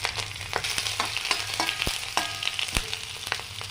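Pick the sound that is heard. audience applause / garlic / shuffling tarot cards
garlic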